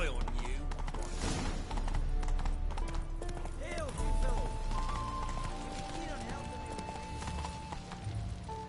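A horse gallops in the video game The Witcher 3, its rhythmic clip-clop of hooves running steadily under game music and effects, with a voice speaking over it.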